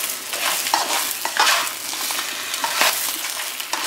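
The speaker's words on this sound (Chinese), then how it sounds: "火稍微开了大一点，翻炒，让每个虾都可以裹上这个咸蛋黄。" Shrimp being stir-fried with salted egg yolk over raised heat, a steady bright sizzle broken by repeated scraping tosses of the spatula, close up with no talking.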